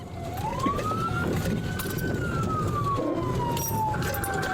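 A police car siren wails steadily through a chase, its tone rising and falling in a long sweep, loud and continuous over engine and road rumble.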